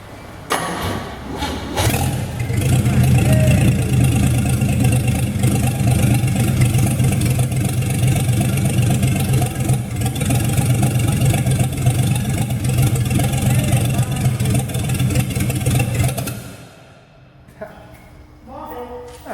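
A 261 six-cylinder engine cranks, catches and settles into a loud, steady idle close by for about fifteen seconds, then cuts off, leaving a quiet stretch of faint handling noises.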